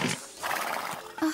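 A nervous cartoon horse neighing, a brief whinny with a short snort at the end, close and loud.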